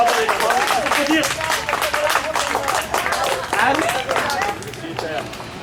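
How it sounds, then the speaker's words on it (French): Applause from a group of young scouts at an investiture ceremony, steady clapping mixed with cheering voices throughout. "Applaudir."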